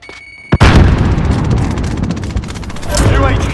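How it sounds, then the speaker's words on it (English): A loud in-game grenade blast bursts out after a short lead-in, followed by a rumbling battle din with a rapid crackle of gunfire and further booms in a military video game. "Throwing grenade!"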